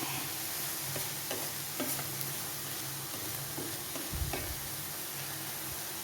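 Taro stem thoran (chempu thaal) curry being stirred in a pan on the stove, with soft scraping strokes recurring every second or so over a steady low sizzle, close and fairly quiet.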